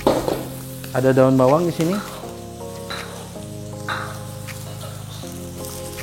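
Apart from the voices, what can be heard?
egg and garlic frying in a wok for fried rice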